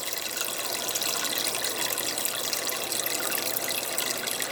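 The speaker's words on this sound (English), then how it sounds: "So if I turn it on now, and you'll actually see it filling up." An automatic top-off system on a 55-gallon saltwater reef aquarium pours fresh water into the tank, producing a steady, hissy trickle and splash that holds even for several seconds at moderate volume, with no voices.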